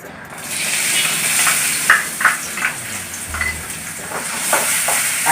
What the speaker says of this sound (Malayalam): ചൂടായി കഴിഞ്ഞ് നമ്മുടെ ഇഞ്ചിയൊക്കെ നന്നായി ഒന്ന് വാട്ടിയെടുക്കണം